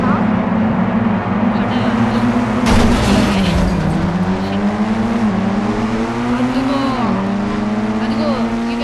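Race cars in the Indian Bike Driving 3D game roar with a continuous loud engine drone that rises and falls as they shift, with a burst of tire noise around the middle and a voice talking over it.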